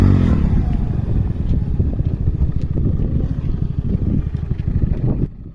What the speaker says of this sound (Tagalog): sinusubukan kong paandarin yung motor para makaahon po tayo